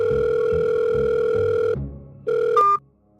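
A telephone dial tone sounds while a call is placed, a steady tone that breaks off briefly, resumes, then gives way to a short higher electronic beep before stopping.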